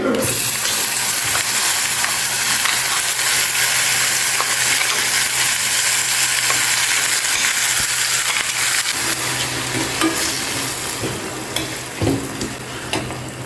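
Ground tomato and coriander chutney frying in a tempering pan with curry leaves, giving a loud, continuous sizzle and crackle with stirring scrapes throughout and a few metallic clinks toward the end.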